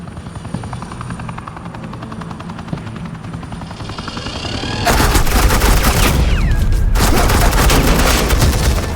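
Loud automatic suppressing fire in the Batman The Enemy Within video game, a dense burst of rapid shots over a steady helicopter drone, with a brief gap in the middle before the firing resumes at full intensity.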